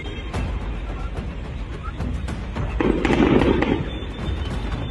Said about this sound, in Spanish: Este señor bota fuegos artificiales